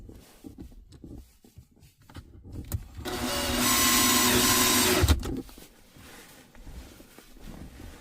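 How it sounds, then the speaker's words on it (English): A power driver sinks a screw into a TEQ Off Road MAM mounting panel on a second-generation Toyota Tacoma, giving one steady, fairly loud whir of about two seconds against quiet surroundings, with no talking. "So I'm just going to go ahead and put the screws in while I'm here."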